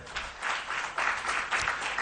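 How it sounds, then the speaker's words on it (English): Applause from an audience at a political public forum on a national budget, a steady wash of clapping in swelling waves that stays moderately loud throughout, with no clear voices over it. "A round of applause for them"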